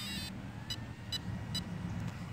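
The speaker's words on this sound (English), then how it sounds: "And that's 3 beeps, so we're running 3-cell." A Mamba X speed controller in a Mini 8ight-T RC truggy on a 3-cell LiPo gives a longer high tone and then three short, evenly spaced beeps. They are faint, outdoors, over a low rumbling background.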